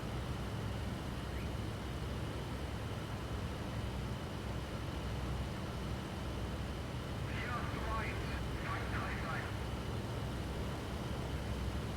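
A steady, unbroken drone of aircraft engines fills the cockpit in the IL-2 Great Battles flight game during an online Me 410 sortie, with faint higher whines passing briefly partway through.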